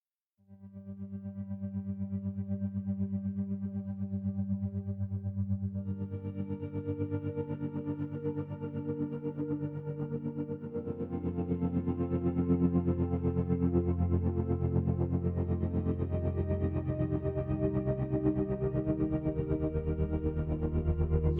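Memory of an Echo preset on the Infinite Steel Tongue Kontakt instrument: a sustained, pulsing metallic drone with echoing, effected tones that thickens and grows fuller partway through, continuous and unaccompanied by voice.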